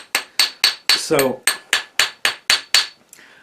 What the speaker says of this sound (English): I work harden the ring, I make it round, and I test that joint, all with this little hammering operation here